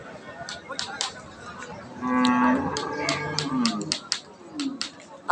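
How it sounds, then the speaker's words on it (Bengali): A young Holstein Friesian dairy cow moos once, a drawn-out, fairly close call rising out of a busy livestock market with chatter and background bustle around it. "এই যেটা হলস্টাইন ফ্রিজের একটা গাভী"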